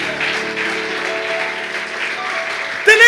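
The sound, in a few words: applause in church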